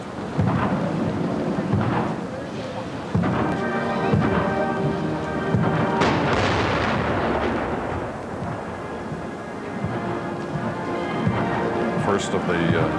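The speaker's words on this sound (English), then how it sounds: "First of the 21 guns, which will be fired over the next 21 minutes" Artillery fires a 21-gun salute during a procession for Canada's Unknown Soldier, heavy booming shots with long rolling echoes, while someone speaks over it.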